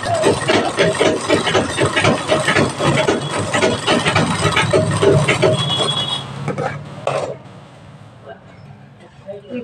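A sewing machine runs in rapid rhythmic bursts while stitching a belted blouse, loud and close, then stops near the end; a voice talks over it.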